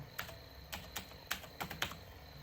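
Keys clicking as a one-time passcode is typed into the Aadhaar bank-link portal on a computer keyboard: about half a dozen quiet, irregular taps spread over a couple of seconds, with no talk.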